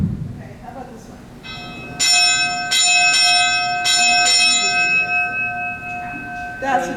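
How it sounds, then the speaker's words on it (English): A bell rings several times in a steady rhythm, bright and clanging with a lingering ring, over a low background rumble. "Right, that's the train bell."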